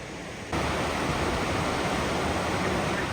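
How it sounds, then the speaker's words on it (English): River water spills over the downtown weir in Saskatoon, a loud, dense, unbroken roar that swells in after a quieter half-second opening and then holds constant. "They built a weir across the river to maintain deeper water."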